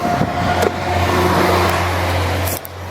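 A taxi driving, likely in Athens, heard as a steady, loud low engine drone with road rumble that runs the whole time, plus a few brief higher clicks.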